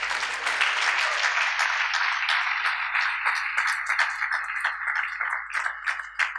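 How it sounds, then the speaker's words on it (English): Conference attendees at an ILS 2020 closing plenary break into applause, many hands clapping in a bright, even patter that swells quickly and holds steady, with a few louder individual claps standing out. "Give yourself a round of applause."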